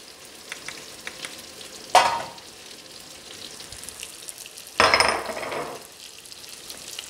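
Canned tomato and crushed garlic going into a hot pan give two sharp, loud sizzling bursts that fade back into a low, steady frying hiss, with no talking.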